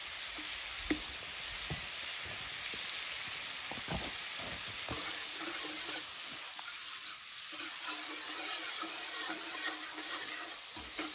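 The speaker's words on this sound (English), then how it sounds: "Put the rest of the butter in." Butter sizzling and frying steadily in a pan with red mullet, a continuous crackling hiss with scattered pops and spits throughout, no voices.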